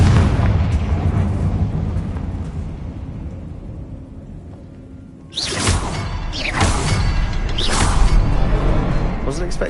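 A Confringo blasting curse goes off in a wizarding video game, with several booming, whooshing bursts in the second half that rise sharply over a quieter, steady game ambience.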